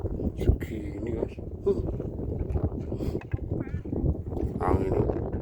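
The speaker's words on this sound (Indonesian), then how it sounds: "Angin ini datang mas." Strong wind gusting over a fishing spot, a steady rough roar under intermittent talk from the anglers.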